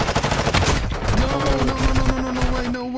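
A submachine gun fires in the mobile shooter game Warzone Mobile: a loud, continuous stream of rapid automatic shots, close and dense, with a faint tonal hum underneath.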